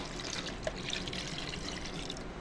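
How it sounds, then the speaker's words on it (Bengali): Broth is poured into beef curry cooking in a rice cooker. A faint, steady liquid trickle and pour with light drips continues close by. "তো এই যে আমি ঝোল দিয়ে দিব"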